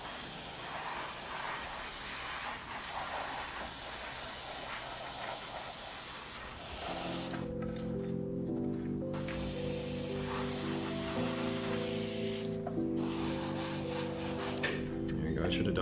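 An airbrush spraying winter whitewash and insignia white onto a scale model, a continuous close hiss throughout, joined partway through by background music.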